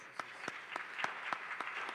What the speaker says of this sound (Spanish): Y bueno, pues vamos a darle un aplauso a Felipe Tello.